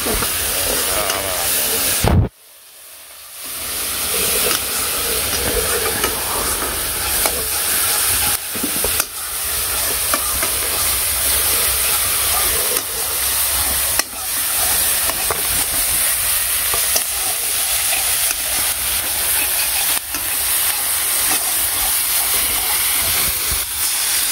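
Spices sizzle in hot oil while tempering a dish in a village kitchen, a loud continuous hiss and crackle with stirring, broken by one short pause early on.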